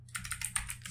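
Short burst of typing on a computer keyboard while entering a terminal command during a Linux setup, a quick run of close, crisp key clicks lasting under a second.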